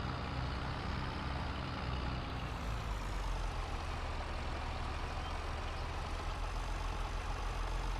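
Steady, continuous engine drone of a tractor in a farming video game on a British map, a low even rumble that holds unchanged throughout with no voices.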